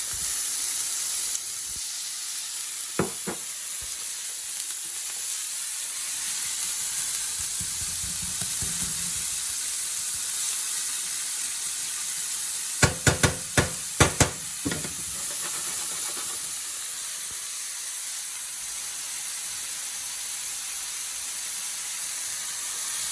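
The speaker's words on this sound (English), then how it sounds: "Obviously that's a hot pan. I'm also going to throw the bacon in there." Bacon sizzling in a hot pan with onions, a steady close hiss broken by a brisk cluster of sharp clatters and stirring knocks midway, then settling back to even frying.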